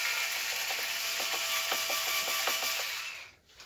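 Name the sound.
electric screwdriver driving laptop screws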